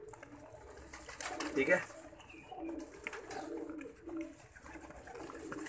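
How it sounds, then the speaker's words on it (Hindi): Pigeons cooing in a loft, soft throaty coos and wing flutters at close range, mixed with someone speaking briefly over them. "सारे उड़े उड़ाए कबूतर हैं भाई जन, एक भी हमारा नहीं है"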